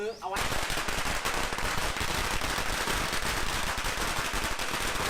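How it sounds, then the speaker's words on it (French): A string of 1000 firecrackers goes off at a Chinese New Year ceremony in Thailand, a dense, continuous, loud crackling barrage that starts abruptly and runs without pause. "La cérémonie se termine avec la mise à feu d'une bande de 1000 pétards pour fêter la nouvelle"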